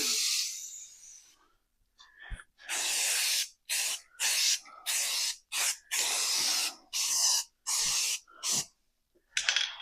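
Bursts of aerosol spray hiss as a light coat goes onto a tonneau cover, about ten short sprays of roughly a second each separated by brief pauses, close and alone.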